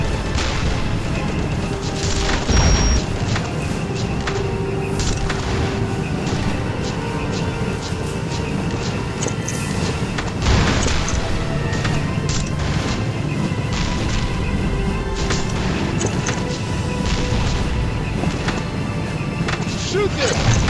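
Artillery explosions and heavy impacts in the World War II shooter game Brothers In Arms 2 Global Front crash repeatedly over a constant din of battle, with occasional shouted voices mixed in.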